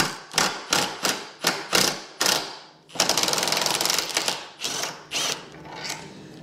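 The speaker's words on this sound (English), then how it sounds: "We need to remove these factory bolts here for the rack." Factory bolts on a 2023 Kawasaki KLR 650 being removed with a power tool: a series of short, sharp mechanical rattling bursts, close and loud, then a longer continuous stretch followed by a few more bursts.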